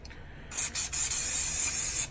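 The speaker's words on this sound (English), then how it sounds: "I'm going to give it a quick spray of organic coconut oil." A couple of quick spritzes of organic coconut oil spray onto pumpkin seeds, then one steady hissing spray for over a second, close and loud.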